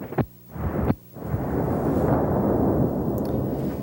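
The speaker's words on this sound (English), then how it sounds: "it only takes a few hits to demolish the melon and the 5-gallon bucket" Hits smash a watermelon and a 5-gallon bucket at an outdoor fair: two sharp, booming impacts land in quick succession, followed by a loud, sustained roaring rush.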